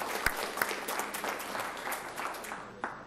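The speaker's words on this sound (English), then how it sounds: "Let's have a round of applause for our teachers and our school nurses" Applause from a school board meeting audience for teachers and school nurses, a brief burst of steady clapping with a few sharper individual claps standing out.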